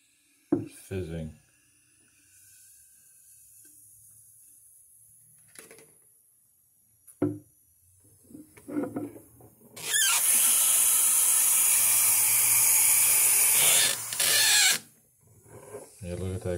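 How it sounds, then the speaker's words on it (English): Sugarless orange energy drink powder fizzing in water after a single-serve packet is cut open, a loud steady hiss lasting several seconds, close to the microphone, with brief talk and handling noises before it. "It's fizzing."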